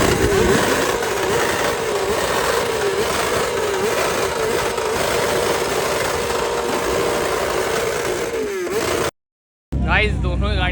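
Loud superbike engines, a Kawasaki ZX10R and a BMW S1000RR, roar at a loudest-bike event in a dense, sustained rumble with rising revs, cutting out briefly near the end before a burst of other sound.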